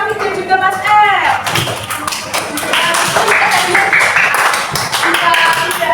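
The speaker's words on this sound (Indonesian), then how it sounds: "Kita beri tepuk tangan untuk Mas Raffi dan juga Mas R." Classroom applause for a student during a teaching practice lesson, a brief patter of clapping hands under a teacher's voice that keeps talking over it.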